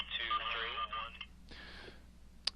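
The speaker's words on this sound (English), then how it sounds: "the audio came out right after the talk permit tone sounded instead of 6 seconds later" A short radio talk permit tone on keying up a handset, followed at once by transmitted audio coming through the radio speaker, with a voice heard over it in a brief burst.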